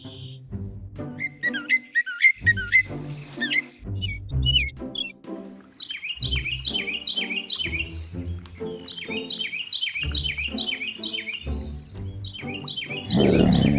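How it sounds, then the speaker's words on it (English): Forest birds singing, with repeated clear chirps and whistled trills in bursts, fairly close, over low background tones. "Let's use our ears to listen to the birds sing."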